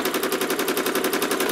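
A sewing machine stitches in the ditch on a quilt, its needle running in a fast, steady mechanical rhythm of even pulses, close and continuous throughout.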